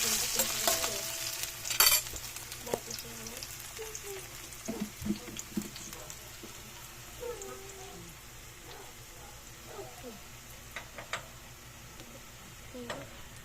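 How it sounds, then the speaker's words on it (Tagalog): Eggs frying with tomato and onion in a pan give a soft, continuous sizzle with scattered spatula scrapes and taps, fairly quiet and close, lasting throughout. "itlog na may kamatis saka sibuyas. Nilulutuin ko guys."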